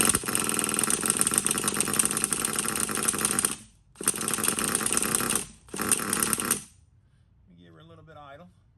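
A Savage Nitro RC car's small nitro engine buzzes loudly and steadily up close in three bursts with short gaps, then cuts out, leaving faint speech.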